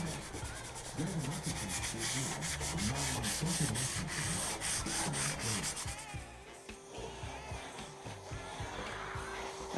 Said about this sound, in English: we've done a bit of sanding